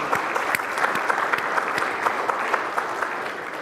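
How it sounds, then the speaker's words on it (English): An audience applauds an honoree at a lecture, giving a round of steady, dense clapping at moderate volume that holds evenly throughout, with a few claps standing out near the front. "So let's give him a round of applause for that."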